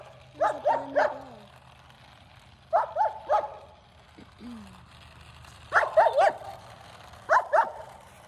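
Puppies bark at a brand-new Jeep in four short bursts of sharp, high barks and yips with quiet pauses between, plus a couple of softer whimpers, all close by.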